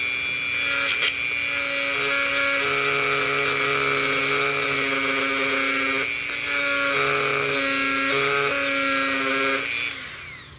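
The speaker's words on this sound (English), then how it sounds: "Let's go ahead, get it on the Dremel and start carving this out." A Dremel rotary tool carves into a Roblox-style crucifix piece with a continuous high-pitched whine that dips and rises in pitch as it bites, close and loud, then spins down at the end.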